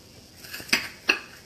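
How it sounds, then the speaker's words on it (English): A knife cuts through a crispy Hot Pocket, giving two sharp, brief crunching clicks close by in a quiet kitchen. "Okay, cut this Hot Pocket."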